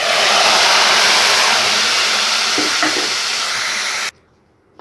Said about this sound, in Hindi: तड़का लगा के करते हैं निहारी को मिक्स